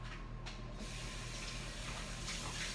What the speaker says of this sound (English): I'm just going to rinse it off